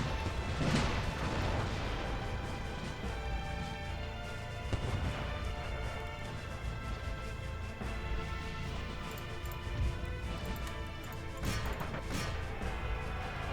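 Cannon fire in the video game Empire Total War during a fort siege, several heavy booming shots spaced a few seconds apart over a continuous rumbling battle din.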